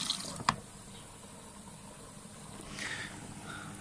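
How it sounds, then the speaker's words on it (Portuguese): LG washing machine with an OE drain error filling with water on a rinse cycle, a faint, steady hiss of water running inside with a sharp click near the start and a soft rise in flow toward the end, no talking. "Vamos então aguardar quando a máquina acabar de pôr água"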